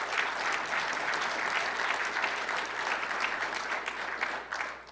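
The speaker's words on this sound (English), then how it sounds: "Let's give them another great round of applause for all that they're doing." Applause from a luncheon audience at a political speech, continuous dense clapping with slight swells, heard at moderate level throughout.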